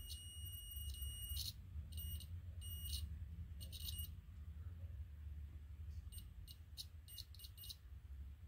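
A multimeter's continuity beep sounds in short high-pitched bursts while testing corroded Super Game Boy cartridge pins, the tones on and off in uneven spurts over a low background rumble.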